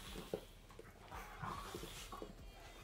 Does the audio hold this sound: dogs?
yes